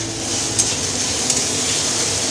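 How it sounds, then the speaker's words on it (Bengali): Onions with a pinch of salt frying in a pan, a steady close sizzle with stirring and two brief clinks. "অল্প একটু নুন দিচ্ছি পেঁয়াজটা যাতে তাড়াতাড়ি ভাজা হয়ে যায়"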